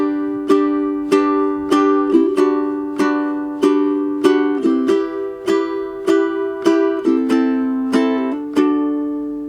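A ukulele strums the intro chords of La Vie En Rose in slow, even down-strums, about a dozen ringing chords with clear changes, played close and alone without any talking.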